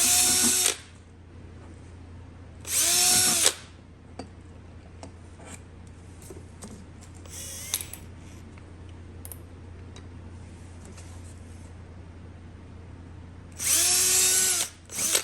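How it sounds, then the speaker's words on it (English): A power drill with a loose, unlocked chuck whirs in short bursts, three or four loud spins separated by quieter pauses with faint handling clicks, during work on a CT110 motorcycle clutch. "I didn't lock the chuck on this drill, so consequently it came loose."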